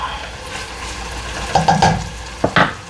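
Food sizzles steadily in a pot while a utensil stirs it, with a few distinct scraping strokes and clinks of metal against the pot toward the end, close and clear over a constant frying hiss.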